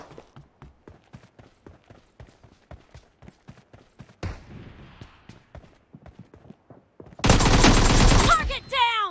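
Rapid gunfire in PUBG Mobile: a long run of sharp single shots, then a dense, loud burst of automatic fire near the end.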